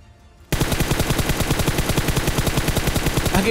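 Automatic gunfire in a mobile battle royale shooter game, where one long, rapid, evenly spaced burst breaks in abruptly after a brief quiet moment and continues loud and close.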